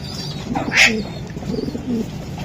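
Racing pigeons coo in a low, throaty murmur, a bright chirp rising briefly near the middle over the soft rolling calls, close and fairly loud, with no one speaking.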